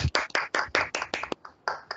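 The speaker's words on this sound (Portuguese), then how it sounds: "aplaudir a nossa grande mestre" Scattered hand claps from a few participants in an online video meeting, about eight or nine sharp separate claps in quick uneven succession, close and fairly loud with no talk.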